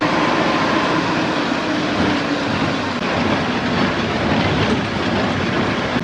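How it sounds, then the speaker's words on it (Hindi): Train rolling past a railway crossing near Mandla bus stand, a loud, steady rumble and clatter of wheels that fills the whole stretch, heard up close from a waiting bus with no talk. "अभी यहाँ पे बस खड़ी है रेलवे क्रॉस पे और यहाँ से जा रही है ट्रेन"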